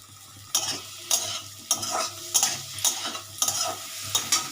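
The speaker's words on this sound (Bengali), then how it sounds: "এবার আরেকটু আরেকবার নাড়বো আলুগুলো" Potatoes stirred in a cooking pan: about eight distinct scraping strokes in a steady rhythm over a soft background sizzle, close and fairly loud, with no voices.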